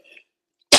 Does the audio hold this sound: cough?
yes